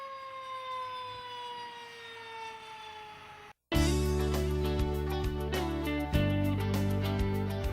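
An emergency vehicle siren wails loud and steady, its pitch sweeping down at first; after a brief cut it returns louder and closer, joined by a heavy engine and horn-like blasts, approaching a roundabout.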